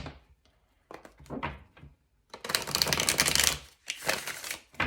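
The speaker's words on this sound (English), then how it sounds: "we'll do one last shuffle" A deck of tarot cards shuffled in close, quiet bursts: scattered short flicks and taps, then a sustained riffle and a final shorter flurry, with no voices.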